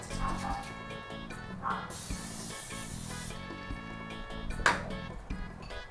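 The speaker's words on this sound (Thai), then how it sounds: "เดี๋ยวขอฉีดสเปรย์น้ำมันมากอกนิดนึง" A short burst of cooking oil spray onto a hot pan hisses steadily for about a second, heard close over a background hum, with a few brief clinks around it.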